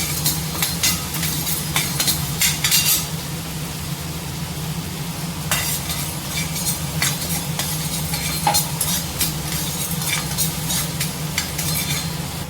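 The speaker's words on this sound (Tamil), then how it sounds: "வெறும் கடாயிலேயே வறுத்துக்கோங்க" Urad dal is dry-roasted in an empty pan while a spoon stirs it continuously, giving close, steady scraping and rattling with a faint sizzle and occasional sharper clicks, and no voices.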